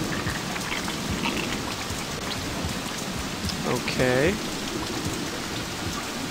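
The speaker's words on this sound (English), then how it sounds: "It's definitely raining." Constant hiss of rainfall on surfaces in the video game White Day: A Labyrinth Named School fills the scene, with a brief spoken word and a short warbling tone partway through.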